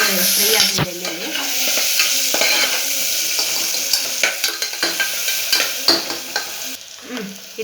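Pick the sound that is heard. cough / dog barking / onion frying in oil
onion frying in oil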